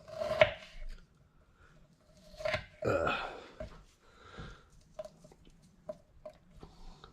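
A knife chops a raw onion on a cutting board with scattered, close, fairly soft cuts and taps, irregular in timing, with no talk.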